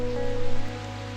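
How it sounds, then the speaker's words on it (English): Rain falling steadily at an off-grid homestead, a continuous close patter and wash of drops over a low background hum, brief and unbroken with no voices. "Well, we're getting rained out again."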